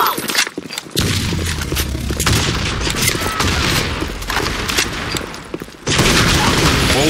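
Grenade blast and gunfire in the Blackshot online shooter, a dense, loud burst of shots and booms that runs almost the whole time and drops briefly near the end, with a short lull at the start.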